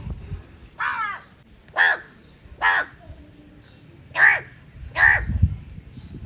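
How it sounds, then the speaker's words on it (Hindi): A crow caws five times in loose succession, each call loud, harsh and close, separated by quiet gaps with faint low background noise near a goat pen. "और ये कौवा पता नहीं क्या चाह रहा है।"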